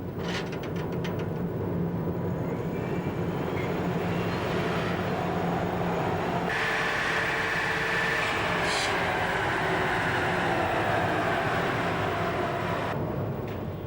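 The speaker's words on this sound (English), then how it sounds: "First, it's driven at around 100 kilometres an hour on this dynamometer." Toyota Camry run at about 100 km/h on a dynamometer during factory testing, a steady rolling roar with rising whine and hiss, loud and continuous, no voices.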